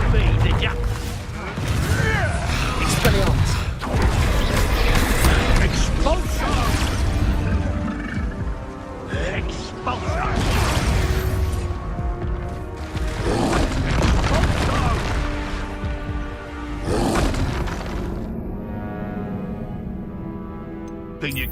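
Spell explosions in Hogwarts Legacy combat, including fire, ice and blasting spells: repeated loud booms and bursts every few seconds, dense and close, with a voice calling out between them.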